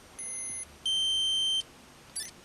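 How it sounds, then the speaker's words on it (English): A Digimon virtual pet device gives three electronic beeps: a short tone, a longer sustained one, then a brief chirp. They are thin and high-pitched, close, and heard alone over quiet background hiss. "every time it beeps, it's like nuts"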